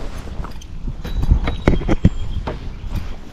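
Kentucky Mountain Horse Lily's hooves clip-clopping across a paved road, a quick irregular series of crisp hard strikes close by, with some rustle between them.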